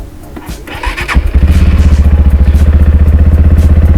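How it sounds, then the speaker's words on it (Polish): A Romet Adventure 125 motorcycle is started with its electric starter button: a brief whirring crank, then the single-cylinder engine catches and settles into a loud, steady, rapid idle thump close by. "wystarczy nacisnąć przycisk rozrusznika"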